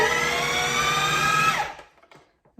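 Pumpkin and banana batter whirs in an electric mixer, a loud steady motor whine for about a second and a half before cutting off, followed by faint clinks.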